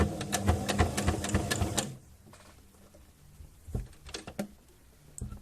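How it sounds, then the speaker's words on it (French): Sewing machine running a 4 mm zigzag stitch on fabric for an AFNOR face mask, a dense rapid mechanical chatter for about two seconds, then stopping, leaving a few faint clicks and handling sounds. "Ou soit on refait notre point de tout à l'heure, le point zigzag."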